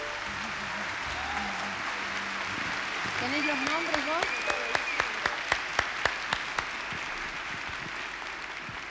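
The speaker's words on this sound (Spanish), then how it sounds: "también un aplauso muy grande" Applause for the musicians at a tribute to a singer's fifty-year career, a steady wash of clapping under a short spoken exchange, with sharp, louder individual claps standing out in the middle.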